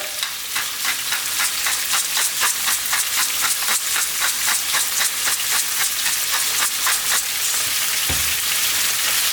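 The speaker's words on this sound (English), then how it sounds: "let's fry this around for about 4 minutes" Garlic and rosemary sizzle loudly in a pan over just-above-medium heat, a steady frying hiss broken by rapid, regular stirring scrapes, with one duller knock near the end.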